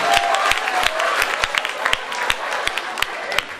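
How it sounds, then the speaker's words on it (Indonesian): Scattered applause from a student audience at a polytechnic event, loose uneven claps with a few sharper individual hits and crowd murmur underneath. "Oke, tepuk tangan."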